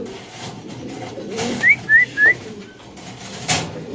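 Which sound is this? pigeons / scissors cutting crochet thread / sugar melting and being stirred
pigeons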